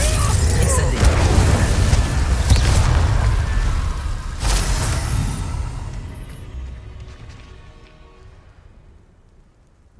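An Incendio fire spell from Hogwarts Legacy goes off as a loud, booming burst of roaring flame that rushes and crackles for several seconds, then slowly dies away into quiet.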